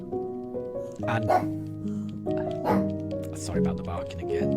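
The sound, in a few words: dog Daruk barking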